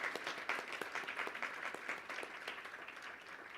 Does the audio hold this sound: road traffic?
no